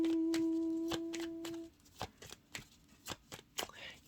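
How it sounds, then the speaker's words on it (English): Tarot cards are shuffled in a series of quick riffling bursts and soft taps at close range, following a fading sustained chime, with a voice talking intermittently. "So they're still shuffling, which means not all the cards have come out"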